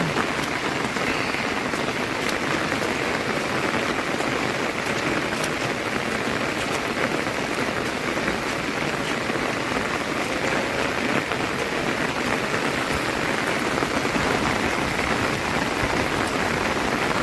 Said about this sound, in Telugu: వర్షం అయితే పడుతూనే ఉంది కంటిన్యూగా అసలు ఆగట్లేదు